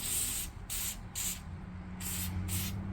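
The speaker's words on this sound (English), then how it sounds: "shoot a little rust check or some deep creep on there, work into the rubber" Short aerosol bursts of penetrating lubricant such as Rust Check or Deep Creep sprayed onto a stiff rubber grommet during a Hemi cold air intake install, about six quick hisses in a steady rhythm, close and fairly loud, with no talking.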